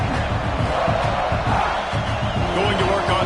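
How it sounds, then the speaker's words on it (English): A loud, dense stadium crowd roars and cheers without pause at an American football game as a Tennessee Vols defense makes a stop inside the ten-yard line, with a broadcast commentator talking over the noise. "this crowd getting behind its defense"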